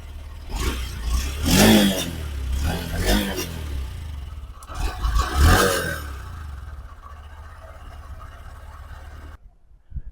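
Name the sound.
Honda SP125 motorcycle engine revving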